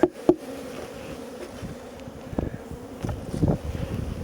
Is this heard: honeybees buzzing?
yes